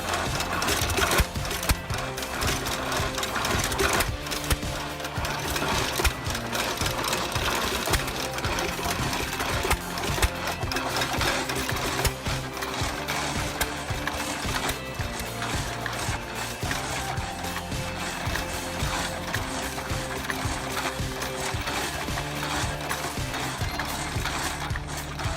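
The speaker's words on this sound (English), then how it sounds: "Ottawa wood saw is another machine that feels almost like a mechanical artwork." A homemade Ottawa wood saw cutting timber keeps up a rapid, continuous mechanical clatter, a rhythmic ratcheting of gears and linkage at moderate loudness throughout.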